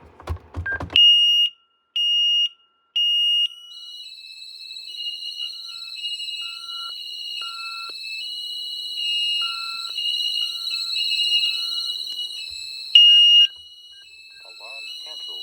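A GE Simon 3 home security alarm, triggered by a bedroom motion sensor, sounds a few short beeps, then a sustained high-pitched tone that holds steady for several seconds before cutting off.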